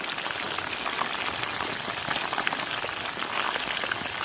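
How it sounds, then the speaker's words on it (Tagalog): Chicken pieces fry in hot oil with a steady, dense sizzle and crackle, close and even throughout, with no talking. "Pagprito muna ng manok tayo ngayon."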